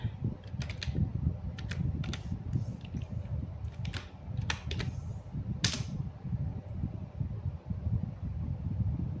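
Keys clacking on a computer keyboard as a short command is entered, in scattered bursts of clicks over a steady low fan hum, fairly close.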